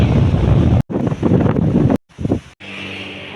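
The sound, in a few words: cool wind blowing at the beach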